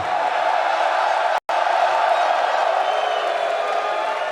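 An esports arena crowd at a Counter-Strike semi-final at IEM Dallas, FaZe Clan against ENCE, roars and cheers loudly and steadily, broken by one brief cut.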